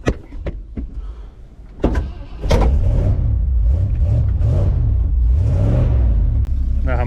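A 50-year-old truck engine cranks with a few sharp clicks, catches, then rumbles loudly through repeated rhythmic revs that swell and fall, close by with no talking.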